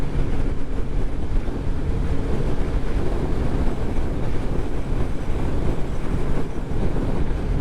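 A Kawasaki GPZ750 motorcycle at speed on the NW200 road-racing circuit: a loud, steady engine roar heavily buffeted by wind rushing past the microphone, no talking.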